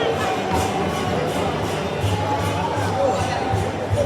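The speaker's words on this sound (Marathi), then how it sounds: "एवढी गर्दी आहे या ठिकाणी की सांगू नाही शकत" A large festival crowd at the ISKCON Mira Road Jagannath Rath Yatra makes a dense, continuous roar with a murmur of many voices, close and loud, while a nearby voice talks over it.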